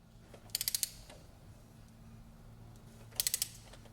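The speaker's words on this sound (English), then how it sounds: "It's nothing better than the good high quality torque wrench." A torque wrench clicks twice while tightening a spark plug to 13 foot-pounds, each time giving a quick burst of four or five sharp ratcheting clicks, close and distinct over a quiet room hum.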